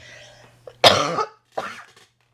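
A single harsh cough nearby, followed by a shorter second cough, with quiet before and after.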